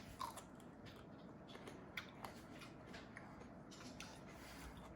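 Someone bites into and chews a crisp Sunny Dolce grape, a thin-skinned variety. Small crunchy snaps and faint chewing sounds come up close and quiet over a low background hiss, with no talking.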